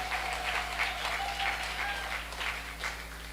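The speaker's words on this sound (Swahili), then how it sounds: "Jipigieni makofi ya nguvu zaidi." A church congregation claps together in sustained, even applause that carries on quietly throughout, with a low electrical hum running underneath.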